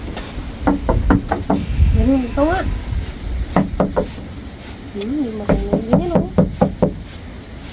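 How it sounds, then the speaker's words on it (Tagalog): Someone knocks on a door in a quick, steady series of sharp raps, breaks off, then knocks again, with people talking between and over the bursts. "Katok mo, katok."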